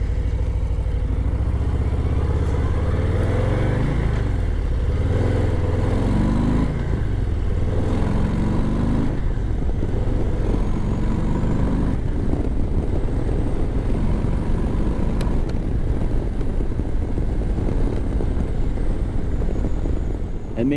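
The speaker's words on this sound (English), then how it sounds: "Now let's hear this stock exhaust" Harley-Davidson Low Rider ST with a 117 engine and stock exhaust rumbles loud and close, deep throbbing tone rising and falling as the throttle is worked and the bike rides along.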